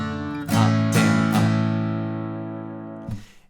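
Acoustic guitar strums part of a song, playing three quick close strums into a ringing chord that decays, then one more strum as the chord changes.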